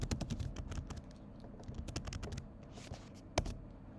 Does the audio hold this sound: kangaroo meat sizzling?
no